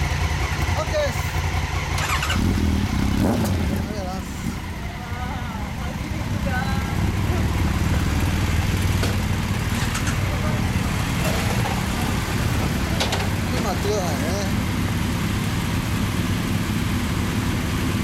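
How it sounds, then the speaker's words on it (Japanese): The engine of a 2016 Honda CRF1000L Africa Twin motorcycle turns over and keeps running with an uneven, close rumble, while people talk nearby throughout. "そのままエンジンかけてもらって。"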